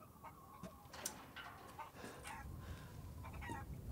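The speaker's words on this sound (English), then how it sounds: "Some chickens." Chickens cluck softly in the video game Resident Evil Village, with a few scattered clucks and squawks over a low, rumbling ambient bed, all faint and somewhat distant.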